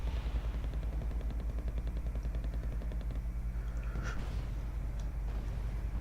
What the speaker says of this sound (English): There's my band cannons firing again.